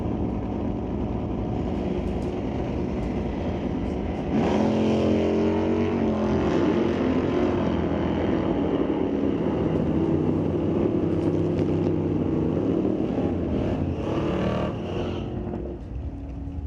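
A drag racing car launches down the strip at Mission Raceway Park during a bracket race, its engine roaring loud and steady before surging harder as it pulls away, sustained for several seconds.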